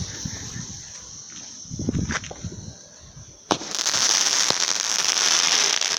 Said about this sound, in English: I'm doing your fireworks, mate.